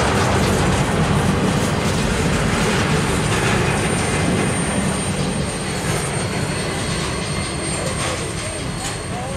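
Norfolk Southern heritage locomotives 237 and 212 meet at CP Magnolia, a loud, continuous rumbling roar of a passing train that holds steady throughout.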